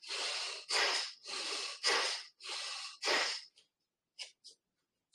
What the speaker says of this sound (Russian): Теперь добавляем дыхание пхастрики.